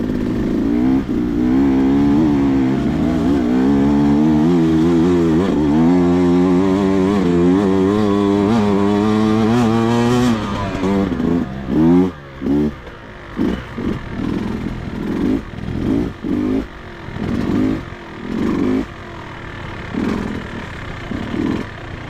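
A GasGas EX250 dirt bike rides a dry, hilly off-camber trail, its two-stroke engine droning and revving steadily near the camera, then dropping into choppy bursts of throttle as it works over rougher ground.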